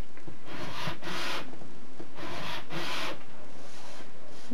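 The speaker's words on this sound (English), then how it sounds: "You're basically scraping the front of the glossy cardstock." Glossy cardstock is scraped back and forth with a tool, producing repeated rhythmic rasping strokes, close and fairly loud, about five passes in under five seconds with no talk.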